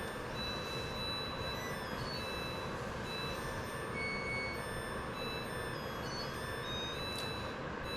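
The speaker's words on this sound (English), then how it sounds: "these washing machine alarms are getting obnoxious" A washing machine alarm beeps in repeated short, thin tones over a faint, busy background rumble, the beeps recurring through the whole stretch at low volume, with no one speaking.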